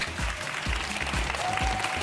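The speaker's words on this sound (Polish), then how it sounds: "Kasia Cichopek, wielkie brawo!" Studio audience applauding for actress Kasia Cichopek on a Polish TV talk show, a steady dense wash of clapping throughout with some low thumping and crowd noise underneath.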